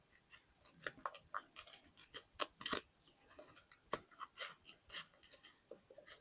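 Scissors snip through a sticker sheet up close, a quick irregular run of crisp cutting clicks and slicing sounds, fairly quiet and without talk.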